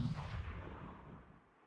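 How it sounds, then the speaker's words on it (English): A mortar strike in the PUBG video game lands as a single deep, booming blast that rolls off and fades over a second or two, heard alone and fairly quiet. "Mortar strike in the air."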